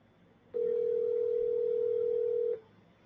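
A steady telephone dial tone, heard while a call is being placed, holds for about two seconds at moderate loudness over quiet background and then cuts off cleanly.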